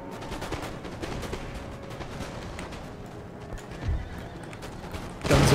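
Cuirassier cavalry horses in Empire: Total War neigh and clop as they ride, amid a busy din of distant battle, with a heavier thump near the end.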